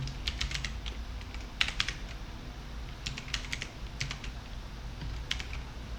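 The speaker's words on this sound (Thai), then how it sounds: "เดี๋ยวกูพิมพ์ให้ดูก็ได้" Quick clusters of keystrokes on a computer keyboard, tapping in short irregular bursts with pauses between, close and fairly quiet over low background hum.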